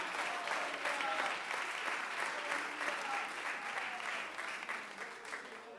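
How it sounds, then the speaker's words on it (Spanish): Church congregation claps in praise, a full, steady roll of applause with faint voices and cheers mixed in, easing slightly toward the end. "Un aplauso y alabanza para el Señor."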